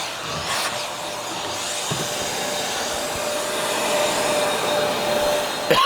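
A vacuum pulls suction through the dust port of a Metabo HPT 10-inch table saw, producing a steady, close, airy roar that holds constant for several seconds.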